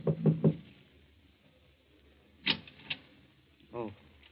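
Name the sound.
knocking on a door, radio drama sound effect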